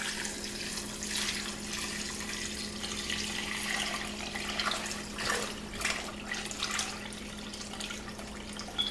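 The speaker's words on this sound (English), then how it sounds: "I'm gonna add the water." Water poured from a tap into a pot of chitterlings being prepared for cooking, a steady hissing splash with rising swells, heard close and alone at moderate level.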